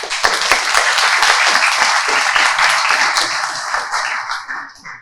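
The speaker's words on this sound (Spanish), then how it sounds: "Recibamos con un fuerte aplauso" Audience applause welcoming a researcher at a university conference session on migration, loud and close, many hands clapping in a dense rattle that holds steady and then tapers off toward the end.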